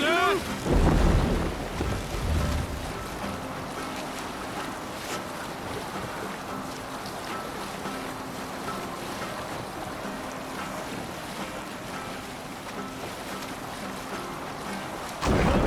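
Viking longship sailing in Assassin's Creed Valhalla, a steady rush of wind and water with a low rumbling swell throughout, a louder gust at the start and a brief surge at the end.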